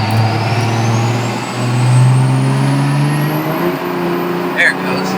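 1000hp Cummins diesel truck with a 6-speed pulling away hard, a loud low droning engine note climbing steadily in pitch as it accelerates, with a brief voice near the end.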